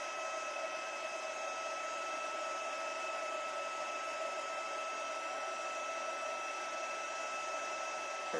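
A heat tool blows steadily to melt embossing powder, giving a continuous even whoosh with a high whine, held alone at a constant level throughout.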